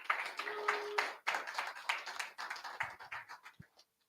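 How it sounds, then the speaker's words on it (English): A conference session audience gives a round of applause: scattered, fairly faint clapping in uneven bursts that thins out toward the end, with no talk over it. "Round of applause."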